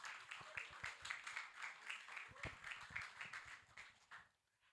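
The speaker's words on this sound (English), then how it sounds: "Please let's keep clapping for him till he comes up." An audience at a product launch gives a steady round of rhythmic clapping from a moderate distance, which fades out near the end.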